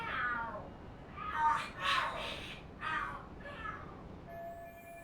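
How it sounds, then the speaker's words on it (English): Cats fighting in the video game Lost Judgment, a series of harsh, wailing yowls and screeches in bursts rising and falling, fairly close, with brief quiet gaps between cries. "Are there cats fighting? What are they screaming for?"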